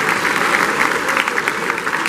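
A graduation ceremony crowd applauds a band, a steady dense wash of clapping from many hands throughout.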